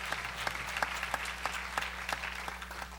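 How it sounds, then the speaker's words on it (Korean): Applause from a church congregation during a sermon, a steady wash of clapping at moderate distance with scattered sharper claps standing out, no talk over it. "믿으면 박수"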